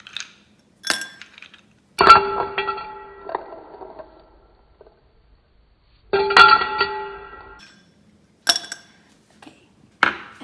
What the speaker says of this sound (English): I've got a glass, and I got some ice cubes.